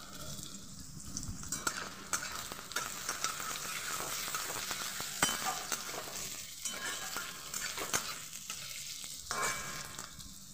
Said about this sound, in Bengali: 3টে পেঁয়াজকে দিয়ে দিচ্ছি এবং এটাকে ভালো করে ভেজে নেব।